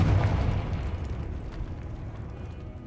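A Confringo fire spell explodes in the Hogwarts Legacy video game: a deep booming blast right at the start that rolls into a low, rumbling decay lasting a few seconds, with no voices.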